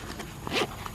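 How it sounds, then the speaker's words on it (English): A pocket zipper on a Nutsac Magsatch pack is pulled after a torture test, one quick close zip rasp amid light handling noise, no speech. "Pocket zipper still works, and I believe the main zipper still works."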